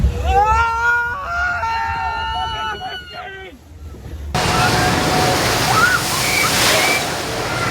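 Water splashing and rushing on the Infinity Falls water ride at SeaWorld Orlando, a loud broad wash after excited voices and screams, continuing steadily to the end.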